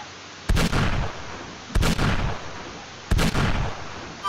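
Three loud, sharp 44 Magnum pistol shots in Minecraft's Crafting Dead mod, evenly spaced about 1.3 seconds apart, each a heavy boom with a short decaying tail and nothing else between them.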